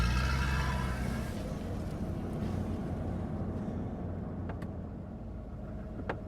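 Steady low rumble of a car driving, heard from inside the cabin, with road and wind noise holding constant and a couple of faint ticks near the end.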